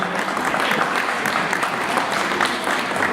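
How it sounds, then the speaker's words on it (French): An audience at a cat show in Beaune gives a burst of loud, dense applause that holds steady and close throughout, with no voice heard over it. "Donc on applaudit très fort."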